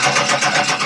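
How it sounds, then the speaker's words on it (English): A 1994 Ford E-150 with EEC-IV fuel injection cranks over continuously, a loud, steady churning whir with a slight pulsing rhythm and no voices. "crank the engine continuously"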